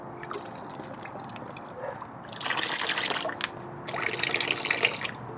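Water from a bottle is poured through a BMW 335i coolant hose during a water pump and pulley replacement, giving two close bursts of splashing, trickling liquid after a quieter stretch of faint dripping.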